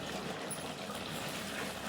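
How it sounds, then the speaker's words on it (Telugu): Water poured into chicken gravy cooking in a pan for a festival meal, a steady faint gushing pour that runs evenly throughout without a break. "ఈ స్టేజ్లో మనము మన గ్రేవీకి తగినంతగా వాటర్ వేసుకోవాలి"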